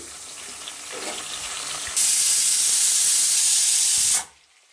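Cashews frying with turmeric and salt in a pan give off a steady steam-like sizzling hiss that swells sharply louder for a couple of seconds, then cuts off abruptly into near silence.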